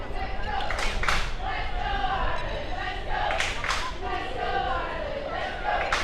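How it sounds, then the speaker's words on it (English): Spectators at an AFL 9s Division 2 grand final in Darwin cheer on the Irish side in a steady, loud roar with sharper bursts, while a commentator talks over it. "Crowd here cheering on the Irish."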